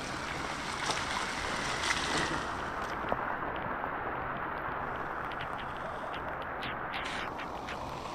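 Rushing water roars in a constant, dense wash as overflowing irrigation water from the mountains floods an eggplant field, like a swollen stream flowing fast and close, with no voices.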